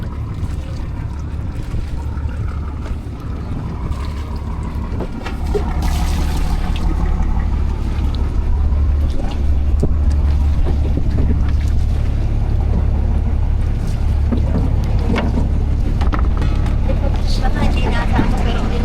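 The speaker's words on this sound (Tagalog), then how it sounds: "Ayan po yung bangka na sasakyan natin." Motorized outrigger boat (bangka) on the water at dawn, its engine a steady low drone that grows louder after a few seconds as it nears, with wind and water noise and some voices in the background.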